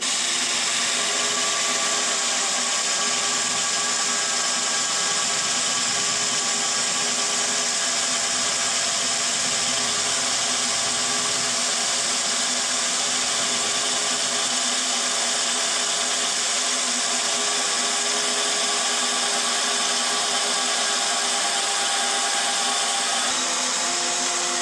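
A steady, continuous mechanical whine of a power drill drilling into a box on a Peterbilt 359 truck runs for the whole stretch, fairly loud and close, with no voices.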